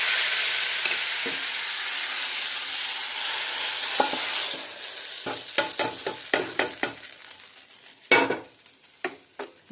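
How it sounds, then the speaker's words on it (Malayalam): Liquid curry poured into a hot pan of mustard-seed tempering for a jackfruit-seed, mango and drumstick curry, a loud sizzling hiss at first, then quieter with sharp scraping and stirring clicks as the pan is swirled. "അല്പം ചാറൊഴിക്കുക എന്നിട്ട് ചുറ്റിച്ചെടുക്കും"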